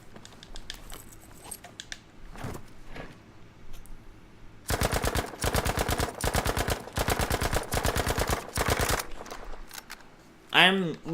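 Rapid automatic bursts of MP40 submachine gun hip fire in Battlefield V, loud and close, rattling in several long strings separated by short pauses, with scattered clicks and movement before and a sharp sweep at the end.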